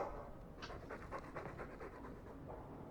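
Dog panting in the video game Dragon Age II, a quick rhythmic run of soft breathy huffs, close and fairly quiet.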